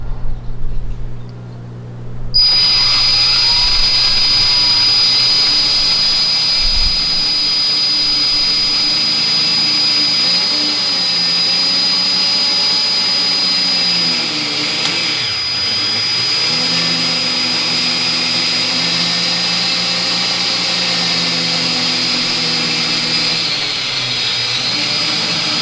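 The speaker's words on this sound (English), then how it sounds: "and then go ahead and begin the ream." A reamer works the pump bore of a 200-4R, 700-R4 or 4L60E automatic transmission, starting abruptly into a loud, steady, high motor whine that holds close and unbroken for over twenty seconds.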